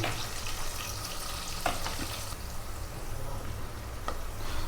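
Onion and green chilies sizzle steadily in a hot pan with oil, a continuous frying hiss with a few stirring scrapes, close and fairly loud.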